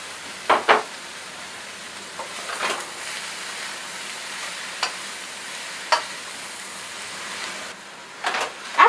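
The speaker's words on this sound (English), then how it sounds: "Stir that in with your vegetables." Shredded chicken and pork ribs stir-fried with vegetables for pancit, a soft steady sizzle broken by several sharp scraping stirs of the utensil against the pan, with no talking.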